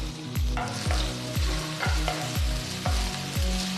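Chopped garlic, ginger and green chilies fry in a wide pan of oil, a steady bright sizzle broken by regular scraping stirs about every half second, close and fairly loud with no voices.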